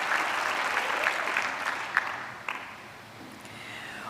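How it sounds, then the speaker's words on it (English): Applause from an audience at a university graduation ceremony in honor of a musical ensemble: a dense, steady wash of many clapping hands in a large hall, tapering slightly toward the end. "I'd like us to give a further round of applause to the ensemble for their rendition"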